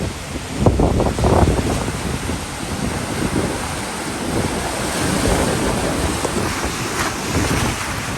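Sea surf washing up a beach at high tide at Inani, Cox's Bazar, a steady broadband wash with wind noise on the microphone and slight swells in loudness, no voices.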